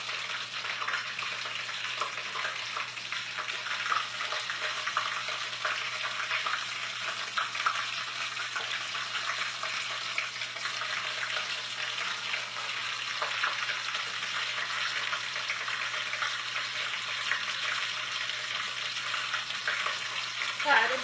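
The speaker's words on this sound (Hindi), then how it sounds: "सारे बैंगन को हमने इसी तरह फ्राई कर लेना है।" Eggplant slices fry in hot cooking oil in a pan, a continuous dense sizzle and crackle that holds at an even level with no talking over it.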